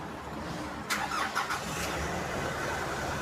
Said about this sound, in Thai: อ่ามีปุ่ม push start นะครับเหยียบเบรกนะฮะ